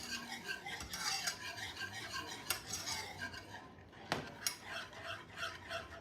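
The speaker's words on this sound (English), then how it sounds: "a couple of teaspoons of maple extract. I'll whisk those in" A whisk beats corn syrup, cornstarch and maple extract together in a bowl, giving quick scraping, rattling metal strokes with a few sharper clinks against the side, moderately close and with no talk.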